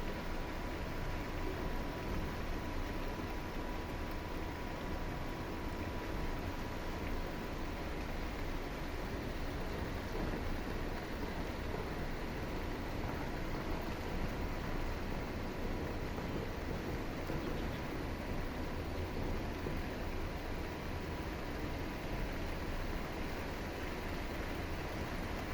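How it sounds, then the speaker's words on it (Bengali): Steady rain falls continuously, a dense, even hiss with no gaps, heard from indoors while cooking. "দেখছেন বৃষ্টির শব্দটা শুনেন, আমার কাছে বৃষ্টির শব্দ খুব ভালো লাগে।"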